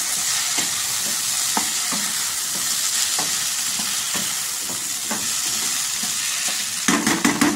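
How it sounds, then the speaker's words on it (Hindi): Masala stirred and mixed in a pan over a low flame: a steady soft sizzle with repeated scraping strokes of the spoon, close and continuous, with a few sharper clinks near the end. "अच्छे से मिक्स करेंगे।"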